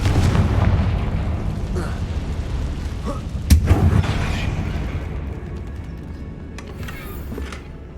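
Confringo explosive spell in Hogwarts Legacy goes off as a loud booming blast with a sharp crack midway, rumbling under ongoing game sound and then tapering off.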